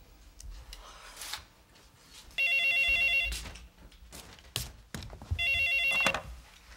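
A telephone rings twice in a domestic scene from a Korean sitcom, each ring a bright electronic trill lasting about a second. Background rustling and scattered knocks run between the rings.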